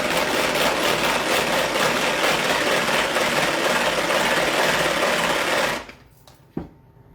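A kitchen mixer runs at speed 1 while a salmon log is being prepared, a steady loud motor whir held for several seconds before it cuts off abruptly, followed by a single small knock.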